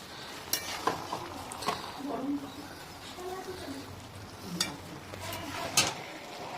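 Cabbage with a fish head and garlic stirred and fried in a pan: a spatula scrapes the bottom in repeated strokes over a soft steady sizzle, with a voice talking over it.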